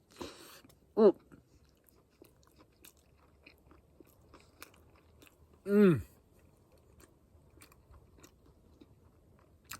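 Someone eats pickles while cooking at an outdoor camp. Two distinct wet crunching bites stand out several seconds apart over a quiet background, with faint small clicks in between.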